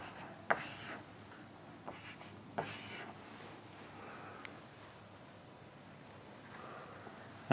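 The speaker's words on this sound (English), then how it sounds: "So I just write it like this." A pen or marker writing by hand during a lecture on glaze recipes, with soft scratchy strokes in short separate bursts and a few light taps, quiet and close with no talking.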